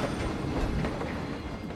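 A train rolls past in the theme-park building game Planet Coaster, with a loud, steady rumble and clickety-clack of wheels that fills the whole stretch without any talk.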